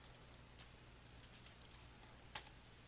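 Computer keyboard typing a search term, a quiet run of soft, irregular key clicks with one sharper tap near the end, heard alone.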